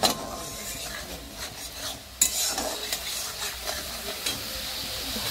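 Kashmiri chili powder and turmeric fry in oil in a pan with a light hiss, while a utensil stirs and scrapes in irregular strokes, close and without talk.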